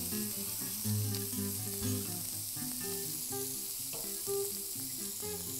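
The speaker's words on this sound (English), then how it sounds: "in these onions and peppers as they saute here." Onions and peppers sauté in a pan for flank steak fajitas, giving a steady, close sizzle and hiss with faint scraping and stirring bumps throughout.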